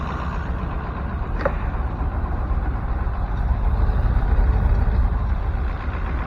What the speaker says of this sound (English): Alright, well, it's at least idling, and this thing's got no blow by.